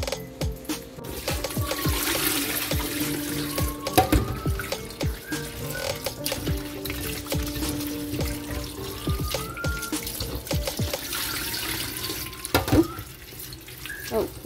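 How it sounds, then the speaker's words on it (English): Sliced cucumbers are rinsed under running tap water in a sink, a continuous splashing stream with clatters and handling noises close by. Someone speaks briefly. "I'm going to rinse this one at least 4 times."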